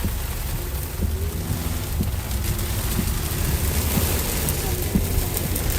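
Heavy rain from Tropical Storm Debby pours steadily in Sarasota, a dense continuous hiss with wind noise across the microphone and faint rumbles underneath.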